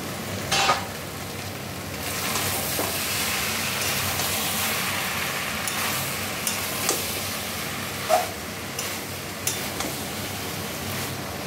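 Sautéed prawn masala is stirred in a kadai, a steady close sizzle and scrape running throughout with a few sharper clinks of the spoon against the pan.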